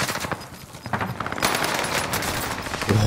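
Rapid automatic gunfire from a Call of Duty Warzone match on the Fortune's Keep map, dense overlapping bursts of shots running loud and continuous throughout.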